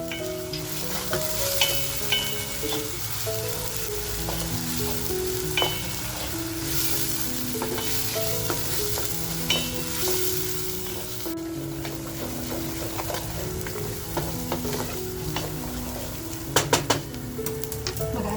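Onions frying with salt over a full flame for chicken dum masala, a loud, constant sizzle with repeated stirring scrapes and clinks of a utensil against the pan.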